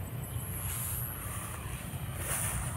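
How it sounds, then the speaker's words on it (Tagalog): Fresh breeze blowing steadily outdoors in a rural province, a continuous airy rush with low rumbling wind buffets that swell slightly near the end, no talk. "Sarap ng presko ng hangin."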